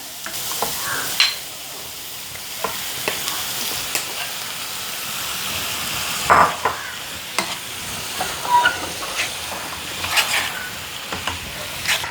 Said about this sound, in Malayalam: ഇനി നമുക്കിതിലേക്ക് നമ്മുടെ ചിക്കൻ അങ്ങോട്ട് ഇട്ട് കൊടുക്കാം